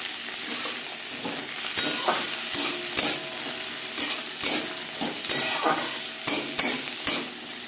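Tomato, peas, egg and onion frying for bhat bhaja, a steady close sizzle punctuated by repeated rhythmic scrapes and knocks of a stirring spatula against the pan, with no speech.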